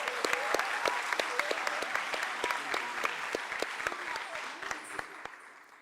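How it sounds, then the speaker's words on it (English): Audience applause after a dance performance at an arangetram, a dense, sustained wash of clapping with sharp individual claps on top that slowly fades toward the end, with a voice briefly under it. "Let's give her another round of applause."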